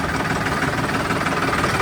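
Tractor engine idling nearby, a steady loud mechanical drone with a faint knocking pulse, continuous for a couple of seconds with no talk.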